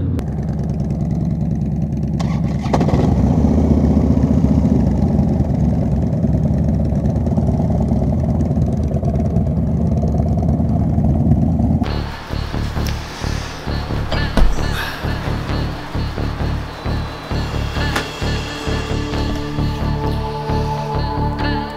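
A motorcycle engine runs steadily through a street ride in Mexico, loud and close, with a heavy low drone. Partway through it turns rougher and more rattly, with brief surges of revving.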